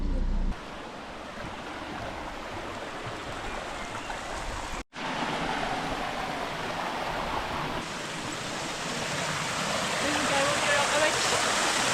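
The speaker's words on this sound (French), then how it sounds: "Avec cette cascade là." A continuous roar of a waterfall in Cyprus fills the scene, broad and steady, briefly cut off once before resuming as loud as before.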